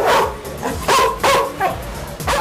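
Dogs at a boarding kennel barking loudly and close, several sharp barks and yips in quick irregular bursts, with a brief whimper between them.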